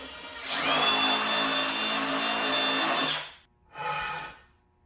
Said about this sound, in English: Well, I am drilling it out.